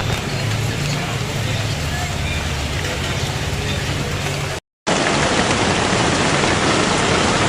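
Heavy downpour of rain pounding down around a shop, a loud, dense, continuous roar that cuts out for a split second midway, then resumes just as strong.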